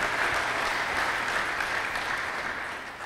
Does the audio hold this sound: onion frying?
no